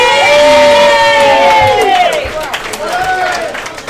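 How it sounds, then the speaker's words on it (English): A live crowd at a bar event cheers and applauds for Marty Aponte, loud and sustained with shouts and whoops that taper off after a few seconds. "can we give Marty Aponte a round of applause"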